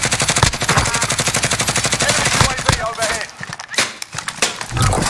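GRAU assault rifle in a first-person shooter game firing a rapid sustained burst of loud automatic shots, then scattered single shots and impacts, with a voice talking over the gunfire.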